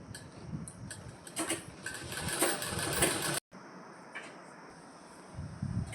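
A domestic sewing machine stitches cloth in a basic tailoring lesson on a skirt, running in a steady mechanical whir at close range, dropping out briefly midway before resuming; no talking.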